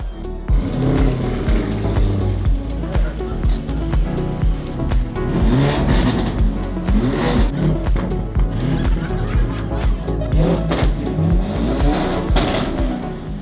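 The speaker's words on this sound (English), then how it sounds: "We're gonna start it." A car engine starts and revs in bursts at a crowded evening party, loud and close, with people cheering, laughing and talking over the rising and falling engine roar.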